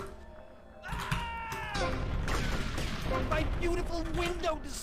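Grenade explosions and rapid gunfire in GTA: Vice City, a dense run of booming blasts and shots, loud and continuous, with game sounds layered throughout.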